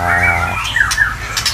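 A golden sama murai bird, one of a breeding pair, gives a brief, loud, harsh squawk close by, with a few sharp calls trailing off.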